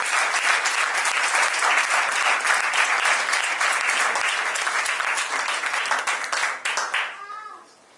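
A church congregation applauds during a Sunday worship service, a dense, steady burst of clapping that holds for several seconds before trailing off near the end.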